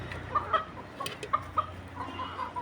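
Chickens cluck in short, soft bursts while pecking at fresh leafy greens such as water spinach, a few scattered calls over a quiet background.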